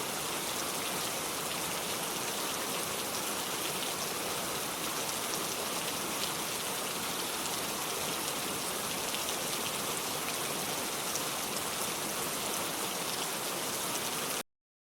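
Heavy rain pours steadily on a makeshift polythene-sheet house, a dense, unbroken hiss of drops close by that stays loud throughout, with no voices.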